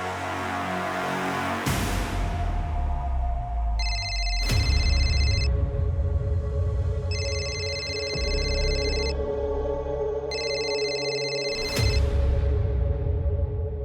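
A phone rings with an incoming call, a repeated electronic tone sounding in three bursts over loud background music with sudden hits, and no talking.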